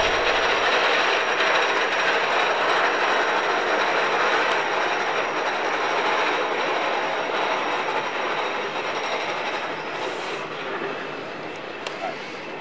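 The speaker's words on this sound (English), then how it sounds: "I want to wait till the train goes up." A train rumbles past close by, a loud steady roar of wheels and rails that slowly fades toward the end.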